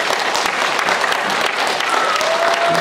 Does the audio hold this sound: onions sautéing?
no